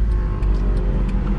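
A tuned 510 bhp Mercedes C63 AMG with a naturally aspirated engine roars loudly and close up, a deep rumbling rev with no speech.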